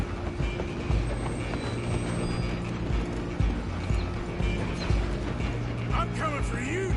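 A steam train rumbles steadily through a Red Dead Redemption 2 game scene, a continuous loud mechanical drone with rhythmic rail clatter, joined by horse hoofbeats and brief faint shouts.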